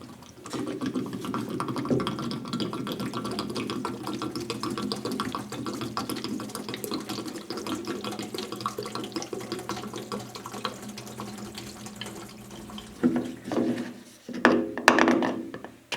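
Chemical liquid glugging steadily into an old Willys fuel tank, a continuous close pour for about thirteen seconds ending with a few hollow knocks and handling sounds.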